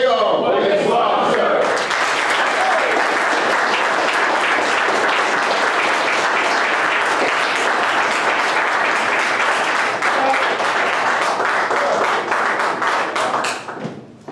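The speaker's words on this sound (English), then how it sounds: "Let's bring out our minister with a warm, loving round of applause." A large congregation applauds loudly and steadily to welcome a minister onstage, with dense continuous clapping and crowd noise that holds for about twelve seconds before quickly tapering off at the end.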